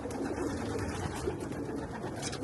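Racing pigeons coo in a loft, a dense, continuous murmur of many birds heard close and steady throughout.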